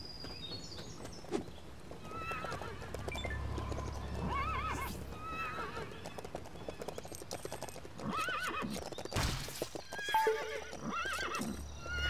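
A horse in LEGO City Undercover neighs and whinnies repeatedly over a steady clip-clop of hooves, with game music and effects mixed underneath, moderately loud and close throughout.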